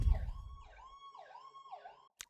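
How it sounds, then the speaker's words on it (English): An ambulance siren wails in repeated rising and falling sweeps as it passes at moderate distance, fairly faint, with no talking over it. "There was an ambulance right as I was starting actually getting."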